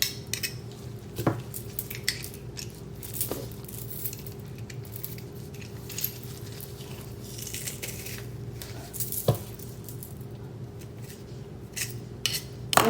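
Garlic cloves squeezed through a small garlic press in a home kitchen, a few quiet separate crunches and squishes with light metallic clicks spread over a hushed background.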